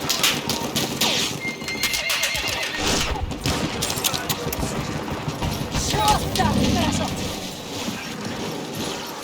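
Horse whinnies and clip-clopping hooves in the Battlefield 1 Galicia battle, amid game noise with occasional crashes and gunfire and voices talking over it.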